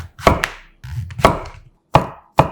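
A knife slices king oyster mushroom stems into 0.4 cm slabs on a cutting board, giving four crisp, close chopping thuds spaced irregularly, with short silences between cuts.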